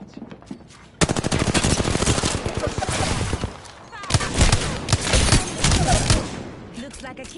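Rapid automatic gunfire in a video game rattles out in dense bursts striking the player, one long volley followed by a heavier, louder burst, loud and close.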